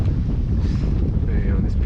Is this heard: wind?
yes